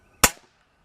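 A break-barrel pellet gun fires a single sharp, close crack that decays quickly into silence, with no talking.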